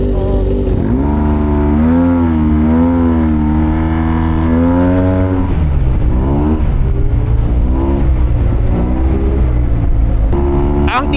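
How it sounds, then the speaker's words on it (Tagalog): A 2023 Yamaha TMAX 560 maxiscooter engine revs loudly and close, its pitch swelling and falling in repeated bursts before settling into a rougher, steady drone. "Ingay pala talaga ng motor natin,"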